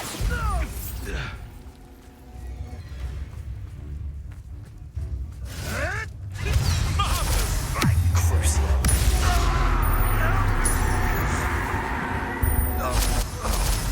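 A Bombarda blasting spell goes off in Hogwarts Legacy: whooshing swishes and mechanical clatter, then a heavy booming blast that leaves a loud, sustained low rumble for several seconds, with a voice speaking over parts of it.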